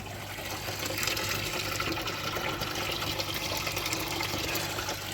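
Pond pump priming after installing an aerated retrofit bottom drain, water rushing and rising into the pipes as a steady, dense hiss and gurgle, close and constant with no talk.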